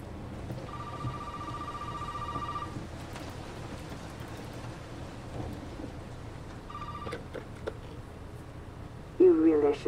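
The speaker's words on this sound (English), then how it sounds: "Oh, the phone." A telephone rings in a tense Resident Evil 7 horror scene, two bursts of steady electronic trilling separated by a pause, heard over a low rumbling ambient bed with a voice entering at the end.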